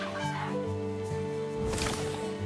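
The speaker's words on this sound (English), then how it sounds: "We got some like ghost chickens in a cemetery." Ghost chickens in a cemetery within a cozy multiplayer farming video game, clucking steadily over layered background music and tones, with a denser burst of game sound near the end.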